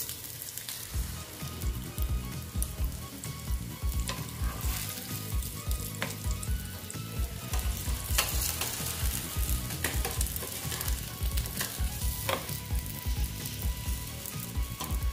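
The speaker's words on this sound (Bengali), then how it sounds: "দেখো দুটো করে ভেজে নিচ্ছি" Flour and potato snacks frying in a little oil, cooked two or three at a time, produce a dense crackling sizzle with rapid spattering pops and occasional utensil taps, close and continuous, with no talking.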